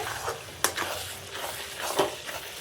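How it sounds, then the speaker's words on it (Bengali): Chicken and vegetables with green chillies and chili powder sautéing in a pan, a steady close sizzle broken by a few sharp scrapes of stirring, with no one talking. "এবার হচ্ছে একটু কষে নিচ্ছি। কষানো হচ্ছে"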